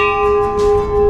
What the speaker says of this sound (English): you need to ring this bell right here to let the guy know to come and unlock the door